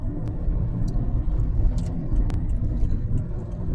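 A car drives along a busy city road in Dhaka near Tajmahal Road, Mirpur. A steady low engine and road rumble runs throughout, with brief higher noises from passing traffic.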